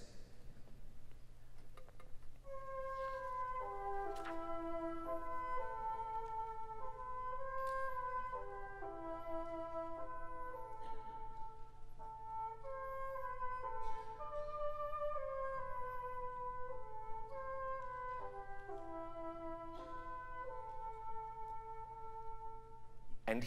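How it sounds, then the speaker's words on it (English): A solo bassoon plays an old Lithuanian folk song melody, a slow, clear line of reedy sustained notes that rise and fall phrase by phrase, heard alone over a faint low hum. "the famous bassoon solo at the very beginning of the Rite is based on an old Lithuanian folk song"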